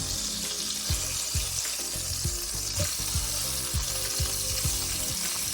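A breakfast burger sizzles and fries in an electric skillet, a steady close crackle with scattered sharp pops and scraping stirs throughout.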